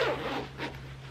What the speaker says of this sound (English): Watch me struggle to get my zipper up.